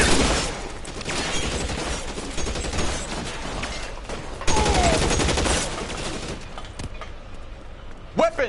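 Gunfire in the L.A. Noire video game, a dense run of shots spread across the clip with a loud burst near the middle, mixed with game noise and voices.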